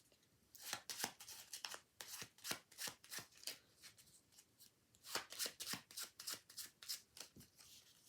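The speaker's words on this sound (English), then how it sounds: "I'm going to shuffle the cards during an overhand shuffle" An overhand shuffle of a deck of playing cards gives quiet, rapid riffling flicks in quick bursts, with a few short pauses between runs. No one speaks.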